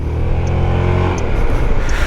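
A motorcycle launches hard from a traffic light on a city street, a loud near engine roar building steadily with rising pitch as it accelerates away.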